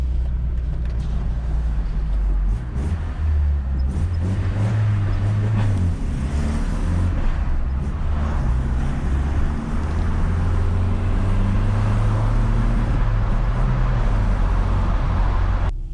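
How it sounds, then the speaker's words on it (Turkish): A Nissan Laurel Altima engine rumbles loudly and steadily with a rough, throaty exhaust drone from a blown middle muffler, rising and falling as it revs, close by. "Size bir orta, patlak orta susturucu dinleteyim."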